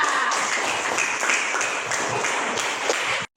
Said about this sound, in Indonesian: Oke, tepuk tangan untuk anak-anak kita.